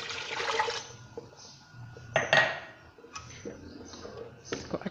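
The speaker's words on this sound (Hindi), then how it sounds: "अब हम इसमें जो है दो ग्लास पानी और ऐड करेंगे।" Two glasses of water go into a pot of karhi with besan and pakoras, making a few separate splashing, gurgling pours with short pauses between them, close by and fairly loud.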